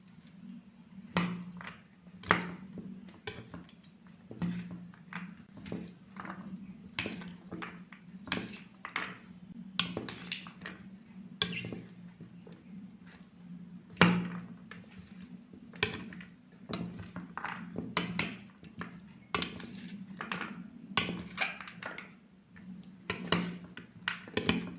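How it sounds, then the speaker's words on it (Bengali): Chana masala ingredients with lemon juice being mixed by hand or spoon in a bowl, giving repeated soft clinks and scrapes at an irregular rhythm, close and fairly quiet against a steady low hum, with no talking. "এবার সমস্ত উপকরণগুলো মাখিয়ে নেব"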